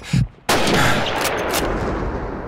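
A sniper rifle fires in Call of Duty 2. After a short burst of game sound there is a sharp, loud single shot that cracks in and leaves a long, rolling echo.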